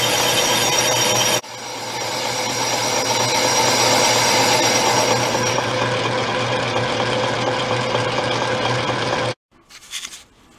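Old Atlas lathe boring a motorcycle cylinder, a steady loud grinding, rasping cut that runs continuously for several seconds, drops out briefly, resumes, then stops with a short clunk near the end.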